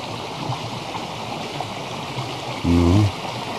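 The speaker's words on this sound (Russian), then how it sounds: "Вот идет вода с гор." Stream swollen by rain, running with water flowing down from the mountains through a forest. It makes a steady broadband rush, with a brief low tonal hum near the end.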